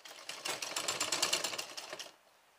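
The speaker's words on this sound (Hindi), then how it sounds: "जैसे हमने निशान लगाया है उसके हिसाब से हम निशान पर सिलाई मार देंगे।" Sewing machine stitching along chalk marks on a school uniform suit, a steady rapid run of close stitching clatter for about two seconds, loud and near, then stopping.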